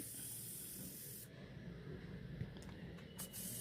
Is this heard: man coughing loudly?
no